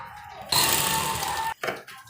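A sewing machine stitches piping on a baby combination suit in one close, buzzing run of about a second, followed by a brief second burst.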